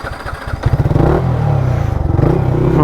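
A Yamaha MT-15 motorcycle with a free-flow exhaust rides along, its mid-pitched engine note loud and close, climbing steadily with a pulsing, throbbing rasp and some rattling throughout.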